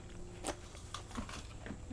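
Close, crisp bites and crunching chews into a sandwich topped with apple slices, a sharp crunch near the start followed by a few softer crackling chews.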